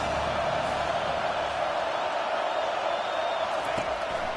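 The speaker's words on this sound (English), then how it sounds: "Third down, and this crowd is tearing the lid off this place." A packed stadium crowd roars steadily in a Sooners vs Clemson college football video game, a dense, continuous wash of cheering that holds at a constant level throughout.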